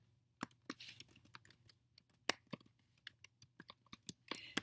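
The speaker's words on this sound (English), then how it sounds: "I'm going to just type that in here." Someone types an inpatient progress note on a computer keyboard, producing irregular clusters of sharp, close clicks with short pauses over a faint background hum. Nobody speaks.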